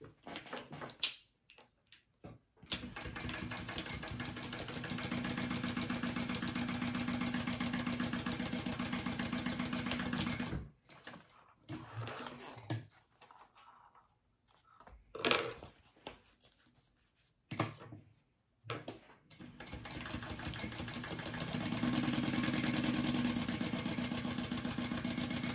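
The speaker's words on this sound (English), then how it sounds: "So I'm just sewing up the two sides." A sewing machine stitches up the sides of a crossbody bag, running in a steady low hum for long stretches with a few gaps and short restarts, fairly quiet, no talk.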